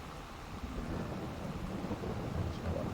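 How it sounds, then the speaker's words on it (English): Steady rain hiss with low rumbling thunder in a Farming Simulator 22 farm scene, a continuous broadband wash lasting the whole span with no distinct strikes. "And of course it starts to rain."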